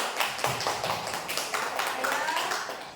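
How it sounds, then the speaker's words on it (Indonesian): Applause at a school presentation on positive culture: scattered, uneven claps from a modest group that sound close and fairly loud, with voices talking over the clapping. "tepuk tangan untuk kita semua"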